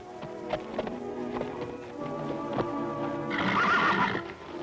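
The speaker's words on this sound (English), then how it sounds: "Is Fury your horse?" A horse whinnies loudly near the end while hooves clop in an uneven rhythm on hard ground throughout.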